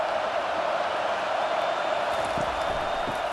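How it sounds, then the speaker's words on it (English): A stadium crowd roars on third down in a College Football 25 simulation of Ole Miss versus LSU, a steady, dense wall of noise that holds at a constant level throughout. "3rd down, and this crowd is tearing the lid off this place."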